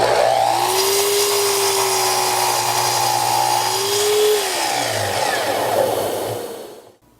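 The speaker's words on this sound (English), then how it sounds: "I've set up my stop block and the chop saw so I can cut these to final length per the drawing" A chop saw cuts wooden bed frame legs to final length against a stop block, its motor whining steadily for about six seconds before spinning down at the end.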